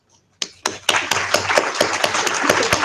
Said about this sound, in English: So let's all give a round of applause for Shawna.